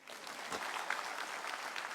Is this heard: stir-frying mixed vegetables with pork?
no